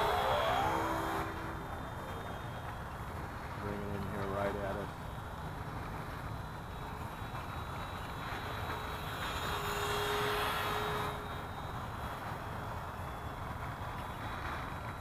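An RC model Avro 534 Baby biplane flies at half throttle, its engine a steady, fairly faint drone that swells and fades as it passes, while people talk nearby over it.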